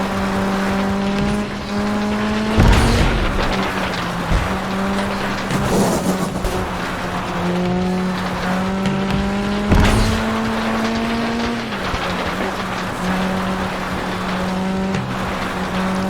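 A race car in the video game FlatOut 2 drones steadily at high revs, its engine pitch climbing and dropping through gear shifts, with bursts of tire squeal and skidding on the corners, loud and continuous throughout.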